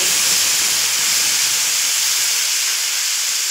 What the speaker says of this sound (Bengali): এবার যে মশলা আমি পেস্ট করে নিয়েছি সেই মশলার পেস্ট দিয়ে দেব।